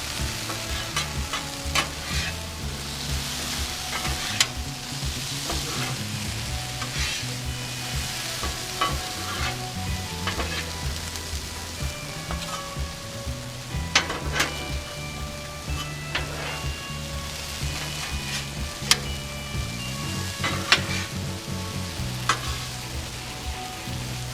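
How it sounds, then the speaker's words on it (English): Crispy potatoes fry on an oiled Blackstone griddle, a constant loud sizzle broken by scraping and clanking as a spatula tosses them. "All right, let's give these potatoes a toss too."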